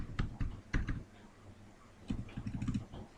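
Keys on a computer keyboard click in quick, soft clusters, with a flurry of taps at the start, a brief lull, and another run of typing near the end.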